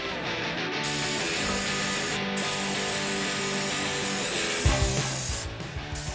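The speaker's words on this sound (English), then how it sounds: "spray it down with some brake clean, wipe everything off one more time" A continuous loud hiss of aerosol brake cleaner spray runs for several seconds, with a mechanical hum underneath and brief pauses in the spraying.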